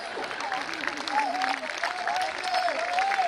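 Applause and cheering from an audience at a Hindi comic poetry show, steady dense clapping throughout, with a crowd murmur and voices running over it.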